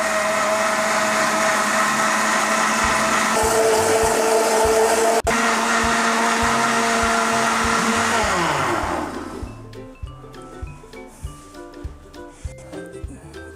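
An electric blender blending mint leaves and lemonade whirs loudly and steadily for several seconds, its motor pitch shifting as it runs, then winds down into quieter clinks and rattles.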